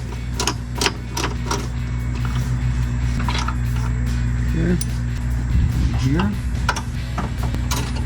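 Ratchet wrench loosening a 13mm bolt on a 2009-2018 RAM 1500 radiator, with quick metallic clicks in short bursts over a steady hum, and someone briefly speaking.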